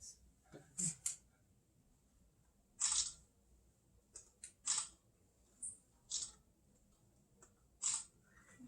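Camera shutter clicks during a group photo at a church Thanksgiving Sunday service, a series of short sharp snaps spaced a second or so apart, some doubled, close and clear over a quiet room.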